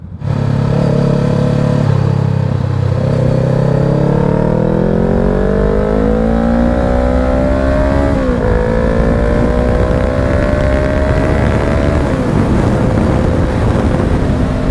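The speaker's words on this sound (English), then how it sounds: "I love how the engine braking is on this bike" Honda CBR500R 2020 sport bike engine while riding, a loud steady drone that rises in pitch through the gears with brief shifts, continuous and close with wind rush, no talking.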